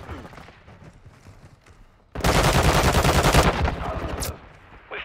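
Call of Duty: Modern Warfare II team deathmatch gunfire: a loud burst of rapid automatic shots that cuts in sharply and holds for about two seconds, then fades under lighter game noise.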